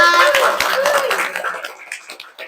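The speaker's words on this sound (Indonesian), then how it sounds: "tepuk tangan untuk kita semua" A class of students claps briefly in a classroom during a micro-teaching session, a short burst of scattered claps mixed with chatter and light laughter that fades out.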